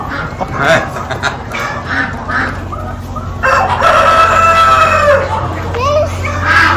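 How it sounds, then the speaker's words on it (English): A rooster crows loudly nearby, one drawn-out call over a background of other poultry clucking and honking. "There's the rooster that was barking."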